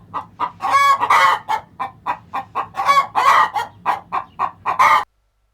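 A hen outdoors in Thailand's Isaan region clucks loudly and repeatedly in an irregular rhythm, rising into a few longer drawn-out calls before stopping abruptly.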